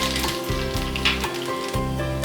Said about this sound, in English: so I'm going to add now 1 teaspoon of mustard seeds, a chopped garlic